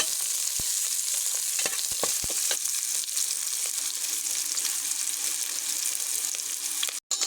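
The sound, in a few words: onion, garlic and green chili frying in hot oil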